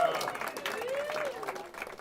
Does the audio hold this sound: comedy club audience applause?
yes